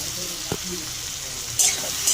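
Spices sautéing with salt and turmeric in a pan, a steady close sizzle with a brief stir scrape and a louder burst of frying near the end, faint voice in the background.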